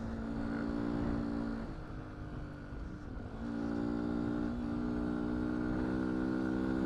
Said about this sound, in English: this bike's probably going to be a little louder. It's a 125